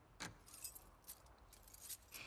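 Keys jangling in The Last of Us Part II, a quiet series of bright metallic clinks and rattles spread across the moment, with one sharper jingle near the start and no voices.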